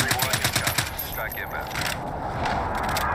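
Rapid bursts of automatic gunfire ring out in Call of Duty Warzone, a quick rattling volley followed by scattered shots fading into a steady background hiss.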